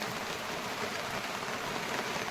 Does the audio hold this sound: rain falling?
yes